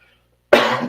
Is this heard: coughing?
yes